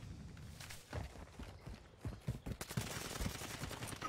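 Bursts of gunfire in a multiplayer shooter video game, rapid cracks and rattles in quick clusters, fairly quiet in the mix.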